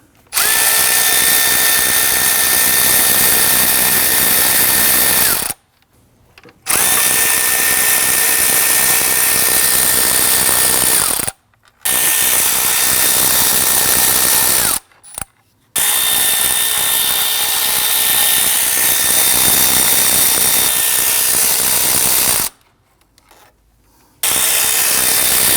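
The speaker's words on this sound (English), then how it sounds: "I'm going to transition over to a power tool and go ahead and zip these out." A loud power tool zips out the thermostat housing bolts on a 2009-2017 Volvo XC60 3.2L straight-six, running in four long bursts separated by short pauses, its steady whirring motor close by, with no talking.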